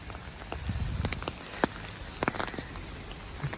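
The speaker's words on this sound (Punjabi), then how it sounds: "ਜਦੋਂ ਮੀਂਹ ਤੇਜ਼ ਸ਼ੁਰੂ ਹੋਇਆ" Rain falls on a winter day in Italy, scattered drops tapping and pattering against nearby surfaces over a soft steady hiss, with no voices.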